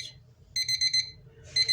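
A Nescafe A-1 electromechanical alarm clock rings in short bursts of rapid high-pitched beeping, with a pause between two sets, fairly quiet and close.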